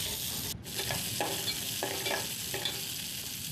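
Onions and green chillies sautéing for a fish curry, a dense, steady sizzle and frying hiss with a few soft stirring scrapes, close and continuous.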